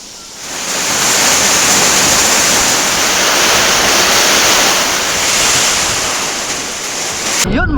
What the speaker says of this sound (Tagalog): sobrang lakas ng hangin dahil sa bagyo